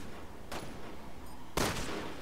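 Two sharp gunshots ring out in the video game Resident Evil 6, spaced about a second apart over a low steady background.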